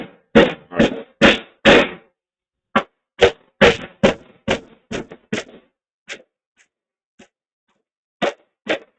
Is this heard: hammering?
yes